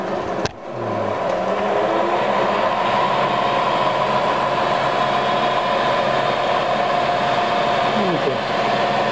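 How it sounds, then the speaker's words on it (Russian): A weak electric motor drives a homemade grinding machine, giving a loud, continuous whirring hum with a faint tonal whine that holds steady after a brief knock at the start. "двигатель слабенький, поэтому он еле-еле раскручивается"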